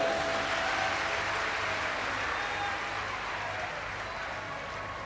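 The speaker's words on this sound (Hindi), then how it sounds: "एक बार जोरदार ताली बजाओ।" A large audience at a live Shiv Mahapuran religious discourse claps loudly and continuously, a dense, sustained wave of applause that fills the space and slowly tapers off.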